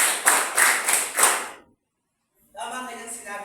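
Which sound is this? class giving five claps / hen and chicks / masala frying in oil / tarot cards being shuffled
class giving five claps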